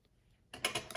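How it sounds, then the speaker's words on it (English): Scissors snip through a thread end on the back of a handmade card, a few crisp close clicks after a quiet pause. "snip it off"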